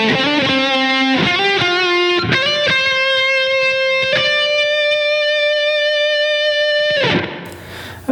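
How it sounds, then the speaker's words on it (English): Electric guitar plays the closing phrase of a solo, with sustained, singing notes, quick bends and slides, a long held tone that rings out, and a final flurry that fades out, all heard alone with no talk. "Now this brings us to our final phrase of this solo"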